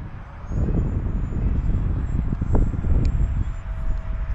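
An Eclipson Inferno model jet flies into the wind, its steady whine mixed with heavy gusting wind buffeting the microphone, continuous and fairly loud throughout.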